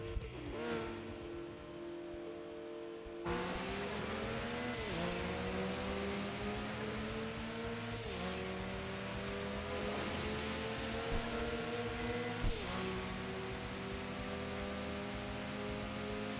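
Race cars in a racing video game, including a Supra, a loud, continuous engine roar climbing through gear shifts with steady rising pitches, dense and close throughout.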